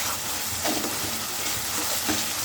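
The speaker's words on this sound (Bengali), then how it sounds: "মশলাটা ভালো করে কষিয়ে নেব।" Spice paste fries in a pan while being stirred, giving a continuous close sizzle with soft scraping strokes that recur every half second or so, and no talk over it.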